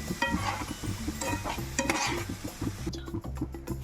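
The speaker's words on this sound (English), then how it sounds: "Saute it for a while" Ravaladdu ingredients being sautéed in a pan, with continuous stirring scrapes and light sizzling, close and steady throughout.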